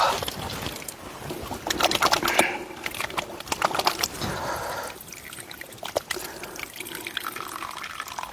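Cold water trickles and splashes from a mountain spring beside an off-road trail in Uttarakhand, a continuous bright gurgling flow with irregular drips and splashes, heard close with no talking.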